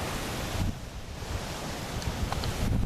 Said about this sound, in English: the water is over the dam